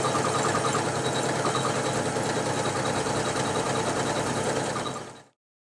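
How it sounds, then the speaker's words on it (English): A Janome 400e embroidery machine stitching at one of its slowest speeds gives a steady, close mechanical whir with a fast even rhythmic hum, running alone without talk before it cuts off abruptly near the end. "Notice how quiet the machine is, how smooth the embroidery is on it"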